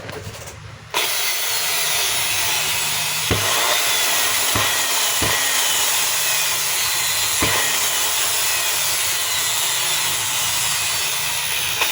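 A Stanley CDH7213 hammer drill with an intermittent stopping and sparking fault runs on a repair bench, giving a loud, continuous motor whir that starts abruptly and holds steady, broken by a few brief knocks.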